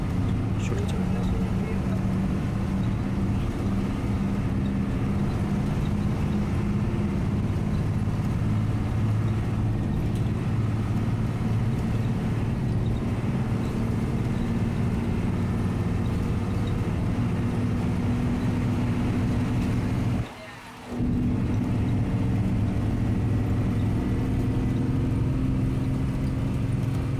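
Star Line intercity bus on the Feni to Dhaka road, a steady loud engine and road rumble heard from inside the cabin, continuous throughout while overtaking a Jonaki Service bus, with one brief dropout near the end.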